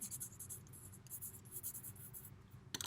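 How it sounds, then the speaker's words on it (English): A pen scratching out a name on a piece of paper, in soft, quick strokes heard up close over a quiet background, ending with a sharper tap. "For the very last step, you will take a piece of paper,"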